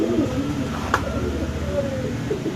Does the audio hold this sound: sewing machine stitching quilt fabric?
no